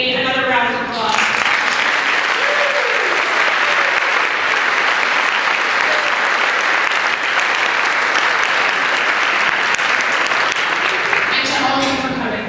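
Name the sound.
audience applause at a children's concert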